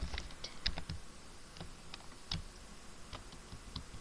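Quick, light keystrokes patter on a computer keyboard while code is entered, irregular clicks at a soft, close level with no talking.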